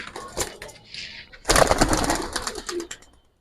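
Close racing and Giribaz pigeons in a loft coo and rustle, with a sudden louder burst of flapping and cooing midway that fades toward the end.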